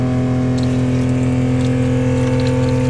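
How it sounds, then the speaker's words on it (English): Watermaker feed pump aboard a Nordhavn 43 running steadily with a strong, even mechanical drone and tonal hum, close and loud throughout with no talking. "and I turn the feed pump on."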